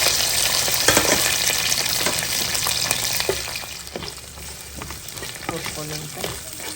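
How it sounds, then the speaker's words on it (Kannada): Chopped onions frying in a tempering of oil with cumin, bay leaf and curry leaves, a steady close hiss and crackle with occasional stirring knocks and scrapes throughout, no voices. "ಈರುಳ್ಳಿನ ಚೆನ್ನಾಗಿ ಹುರ್ಕೊಳ್ಳೋಣ ಒಗ್ಗರಣೆಯಲ್ಲಿ"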